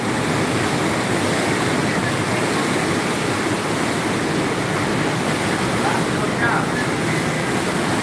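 Water churns and splashes steadily in a shallow circulating tank as a pump pushes it around, a dense, constant rushing wash that stays close and loud throughout without pause.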